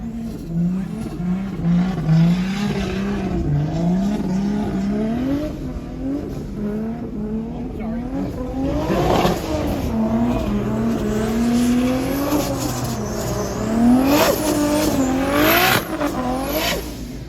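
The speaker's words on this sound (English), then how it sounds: "So yeah, after the donuts, as you can see what Dansiki was doing." At a drift school, a car spins donuts with its engine revving hard and the tires squealing in long rising and falling wails. The sound is loud and continuous, with no talking over it.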